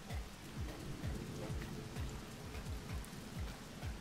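Rain pours down in Rain World Downpour as a dense, constant hiss, with rhythmic low thumps recurring about twice a second beneath it.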